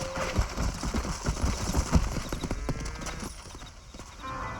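Horse hooves clip-clop steadily at a walk, close by, with some faint background noise, in the video game Red Dead Redemption.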